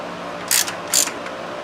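A ratchet tightens the accessory belt tensioner on a V6 engine, two distinct bursts of close mechanical clicking over a steady background hum.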